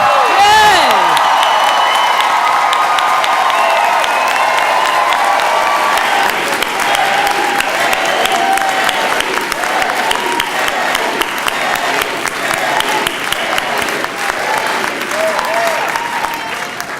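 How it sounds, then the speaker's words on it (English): A large crowd in a packed room gives Senator Ted Kennedy a sustained, loud round of applause with cheers and whoops, steady throughout and swelling in dense clapping. "a huge round of applause that Ted is appreciating tonight and that fills this room"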